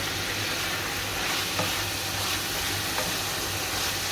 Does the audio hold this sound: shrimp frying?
yes